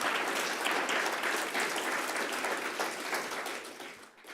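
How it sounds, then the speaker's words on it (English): Loud, full applause from a large audience at a sustainability summit, a dense wash of clapping that holds strong and then gradually fades toward the close. "Can we give you a round of applause?"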